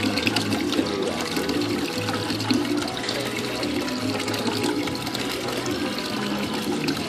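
Water pouring from a rope pump prototype into a 5 or 6 gallon bucket during a flow test, a steady continuous splashing stream with a voice faintly underneath.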